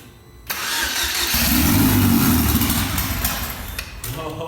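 Engine of a salvaged car being turned into a street-legal race car, cranking over with a sudden loud burst and rough churning that swells and then tapers off, heard close and alone.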